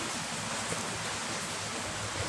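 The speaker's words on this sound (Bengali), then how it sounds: "বারান্দায় বসেছি বৃষ্টি পড়ছে এখনও" Rain falls steadily as heard from a veranda, a dense, even hiss of drops that holds without pause throughout, with no voices.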